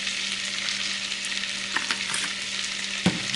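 Asparagus sautéing in butter in a pan, with garlic powder and onion powder added, gives a steady close sizzle with a few soft utensil clicks and one sharper knock near the end.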